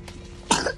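A person gives a single short cough, close and fairly loud, after a brief moment of quiet background.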